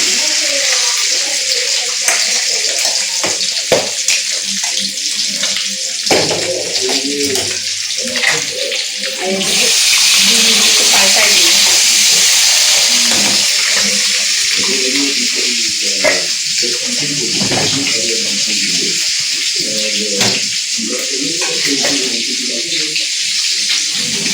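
Eggs fry in a pan in a home kitchen, a steady close sizzle running throughout with occasional utensil sounds, while a voice talks faintly underneath.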